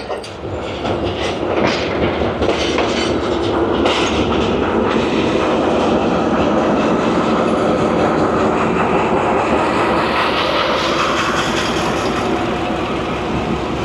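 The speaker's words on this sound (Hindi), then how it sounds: "एक ट्रेन जा रही है और दूसरी ट्रेन का लोको आ रहा है" A train passing through Lahore station while another train's locomotive approaches, loud and close, with a continuous rumble and rhythmic clickety-clack of wheels over rail joints that rolls on steadily without voices.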